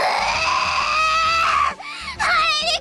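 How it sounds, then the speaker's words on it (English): A female character's scream from the visual novel Summer Pockets Reflection Blue, a loud, sustained high-pitched shriek with a strained, crying edge, briefly breaking off and then resuming strongly. "I like that scream because it sounds iconic to me."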